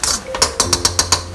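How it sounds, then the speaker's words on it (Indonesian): Gas stove knob turned off in a home kitchen, giving a quick series of about six sharp ratcheting clicks close to the listener, with no talking. "kalau udah bilang aku matiin tungnya kompornya"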